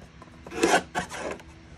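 Paper strips sliced one after another on a paper cutter at a crafting class, giving two brief rasping strokes close by followed by a softer scrape, with no voices.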